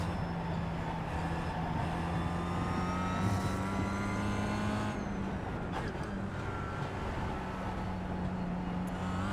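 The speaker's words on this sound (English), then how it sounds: "you can hear me on and off the throttle" Simulated Kia Optima racing around the Nordschleife in iRacing, its engine droning steadily near and loud with pitch shifting as the throttle comes on and off, under a constant broadband road and wind roar.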